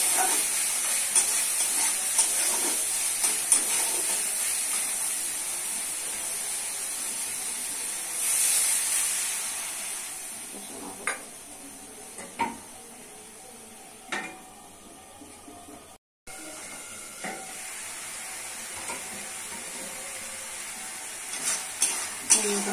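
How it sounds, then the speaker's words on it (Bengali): Fish frying with dried shrimp, two bay leaves and Kashmiri chili in a pan, with a continuous sizzle and hiss, occasional stirring scrapes and utensil clinks, and a brief burst of steam partway through. "দুটো তেজপাতা, কাশ্মীরি লঙ্কা দিয়ে ভালো করে কষিয়ে দিতে হবে।"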